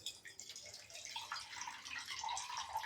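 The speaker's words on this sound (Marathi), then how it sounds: "आता हे फुलं उकडून झाले आहे. आता त्याच्यामधलं पाणी काढून घेऊया." Water draining off boiled kuda (kudya) flowers in a home kitchen, a faint, steady splashing trickle with a few drips, quiet and close, without any voices.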